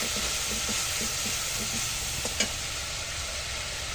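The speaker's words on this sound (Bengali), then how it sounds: "মশলাগুলো সুন্দর করে কষিয়ে নেব" Spices sauté in a pan for a vegetarian soybean and potato curry, producing a loud continuous hiss and sizzle with faint rhythmic stirring scrapes underneath, and no talking.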